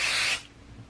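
One short burst of spray adhesive hisses onto sweatshirt fabric up close, stopping abruptly and leaving quiet room noise.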